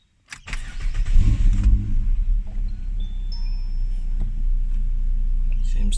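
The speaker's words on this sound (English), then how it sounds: "I'm going to start it and hopefully do a couple of revs, not too loud" A Ford Falcon G6E car engine fitted with a cold air intake cranks and catches, revs up briefly, then settles into a steady, close idle.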